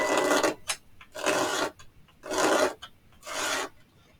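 A small wooden piece for a model house is sanded by hand in four rhythmic back-and-forth strokes, each a close, raspy scrape separated by short pauses.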